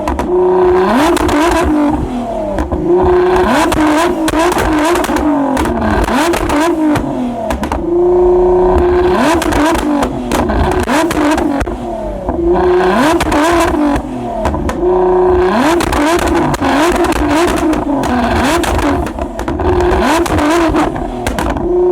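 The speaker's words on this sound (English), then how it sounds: "it's time for the GTR to shoot some real flames" Nissan GTR at a night car meet, engine held at high revs in loud, steady sustained bursts with brief dips between, set up to shoot flames from the exhaust, close and dominant.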